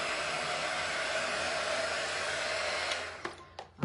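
A hand-held dryer blows a steady, loud whooshing hiss close by while drying paint on a baseball welcome sign, then cuts off, followed by a few faint knocks and handling sounds.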